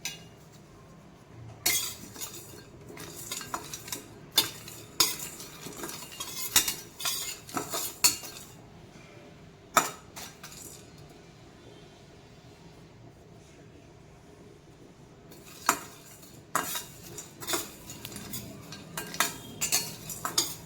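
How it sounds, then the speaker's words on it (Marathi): Garam masala spices dry-roasted in a pan for chicken masala, with a metal spoon scraping and clinking against the pan in irregular bursts, close and fairly quiet, separated by short pauses. "सगळे गरम मसाले थोडे भाजून मी काढून घेणार आहे"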